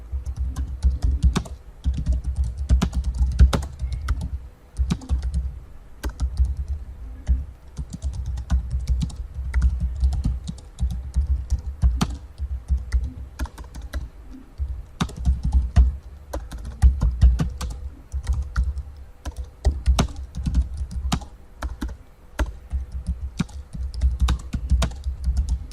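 Steady, rapid keystrokes on a computer keyboard as assignment instructions are typed into Microsoft Teams, with close, crisp clicks continuing for about 26 seconds and no talking.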